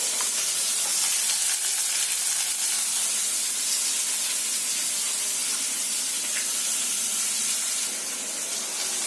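Onion fries in a hot spice mix with a dense, steady hiss of sizzling oil throughout, close and even, with no voices heard.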